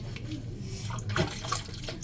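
Tap water runs steadily into a sink while a soaped plate is rinsed, a soft splashing stream with brief louder spatters, close and without talk.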